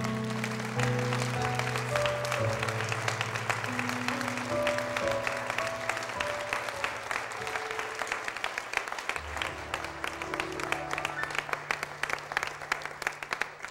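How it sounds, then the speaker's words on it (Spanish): Church congregation clapping steadily in praise to the Lord, a continuous bed of many hands heard under sustained organ or keyboard chords throughout. "Un aplauso al Señor, nuestro Rey y Salvador."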